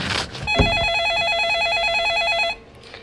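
A telephone rings in a Roblox ice cream game, one steady electronic warbling trill that runs for about two seconds alone, then stops sharply.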